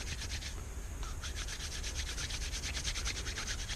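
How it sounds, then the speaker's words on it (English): Hands rubbing over a jalapeno pepper, a continuous close scratchy friction with a faint rhythmic rasp, quiet and steady with no talking. "you can hear the little seeds coming loose"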